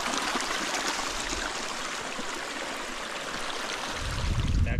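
Water running steadily along an irrigation channel beside a river in the Málaga countryside, a continuous close rushing trickle heard alone, with a low rumble swelling near the end.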